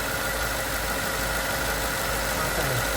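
A car engine idles steadily at close range with a constant mechanical hum and vibration while the AC compressor clutch engages; no distinct click stands out over the continuous drone.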